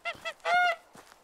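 Baby duck in a video game, a few short honking calls with one longer drawn-out honk in the middle, close and clear against silence.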